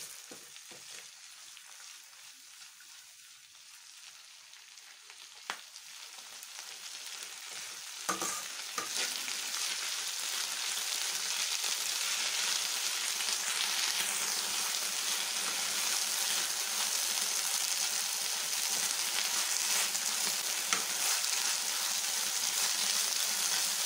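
Chennangi (senna) leaves frying over a low flame, with a quiet start swelling into a continuous soft sizzle, stirred now and then with faint scrapes, close by and alone.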